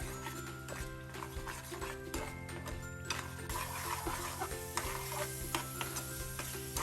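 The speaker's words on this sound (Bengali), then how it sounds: "দিয়ে ভালো মতো করে আবারও নাড়াচাড়া দিব দুই থেকে তিন মিনিট" Mustard paste and onion paste masala being stirred in a pan for a rui fish mustard curry. A constant sizzle runs with repeated spatula scrapes and clinks, close and steady.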